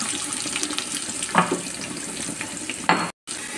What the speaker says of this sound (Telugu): ఇప్పుడు మనం కట్ చేసి పెట్టుకున్న ఆనియన్స్ ఇందులో వేసి ఫ్రై చేసేస్తాం